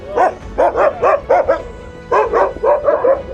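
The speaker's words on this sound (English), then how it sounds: "Oh, there are some angry dogs" Angry dogs near the ancient site of Petra bark loudly and close by, giving a quick run of repeated barks, a short pause, then a second volley.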